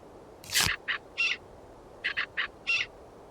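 A brolga call in the game Wingspan: a sharp rising whoop followed by a series of short, clipped trumpeting notes in two clusters, clear and isolated against a quiet background.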